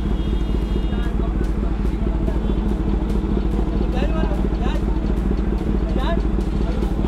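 Kawasaki ZX-10R sportbike idles on a city street during a night ride, its steady throbbing engine loud and close throughout, with faint horns and traffic behind it and voices talking over it.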